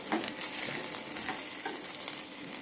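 Dried red chilies crackle and sizzle in hot oil as a tempering for a village-style curd sambar, a dense continuous fry close by with faint stirring scrapes.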